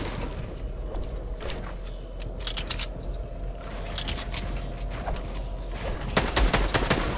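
Gunfire in the video game Fortnite comes in repeated short bursts over a constant background, with sharp shots scattered throughout and denser firing toward the end.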